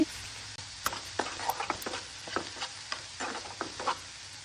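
Finely chopped green chillies go into a hot pan with onion, a soft steady sizzle underneath repeated light clinks and scrapes of stirring, close and quiet, with no talking.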